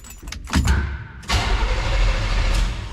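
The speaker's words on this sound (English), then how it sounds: "We're gonna try to start it and see what happens." A 1952 car engine cranking and then catching, with a short starter whir followed by the engine firing up and settling into a steady, loud, rumbling idle close by.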